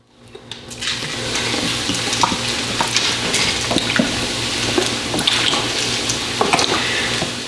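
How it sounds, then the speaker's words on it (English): Coca-Cola from a 2-liter bottle pours over pork ribs in a pan, a loud, steady fizzing and splashing that runs throughout with scattered crackles and pops, close by and without speech. "I'm gonna use an entire 2-liter bottle of Coca-Cola."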